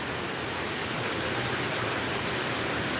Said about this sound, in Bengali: এক ছাতি উঠায়নি কিন্তু বৃষ্টি প্রচুর পরিমাণে আর কি